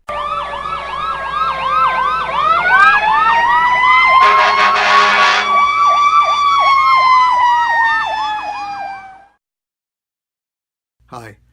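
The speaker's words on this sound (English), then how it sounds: "you hear the comforting sounds of sirens approaching" Fire truck and emergency vehicle sirens wail loud and close, several overlapping rising-and-falling tones with a brief horn blast, then cut off abruptly into silence before a short final blip.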